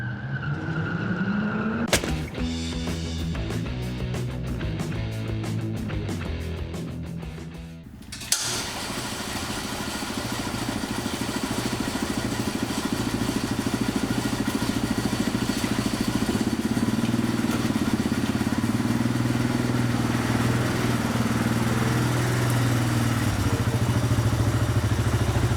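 A Yamaha quad ATV fitted with tracks starts up: a rattling crank and rough sputter lead into a steady engine idle that then settles into a constant loud rumble.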